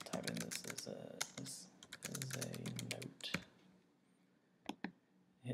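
A note being typed on an iPhone, quick light taps in bursts with short pauses, close and soft, with a person talking over part of it.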